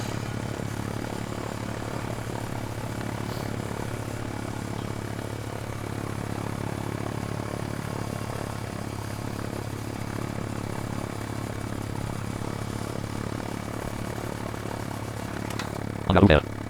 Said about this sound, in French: J'ai fait exprès de ne rien dire pendant l'ouverture du hangar.